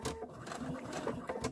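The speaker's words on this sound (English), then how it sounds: "And I'm going to start sewing again, back stitch." A sewing machine back stitches fabric for a fabric egg, a quick run of rapid needle clatter with short bursts and a brief pause between them, close and fairly quiet.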